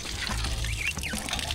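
Somewhat cloudy water pours steadily from a tap into a container, a close, continuous gushing splash with a brief chirping squeak over it.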